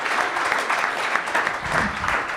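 Audience applause at a live talk by a celebrity PR consultant: a steady, dense wash of clapping hands that fills the room and holds evenly throughout, with no voices over it.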